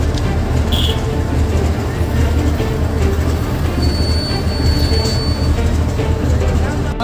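A train rolls along the tracks at Sangrur railway station, a steady loud rumble of wheels with faint squeals, continuous throughout, while people talk nearby.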